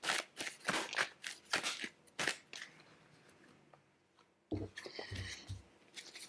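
Tarot cards laid out on a table, a quiet close series of crisp card snaps and slides in an uneven rhythm, a pause, then a further cluster of shuffling card sounds.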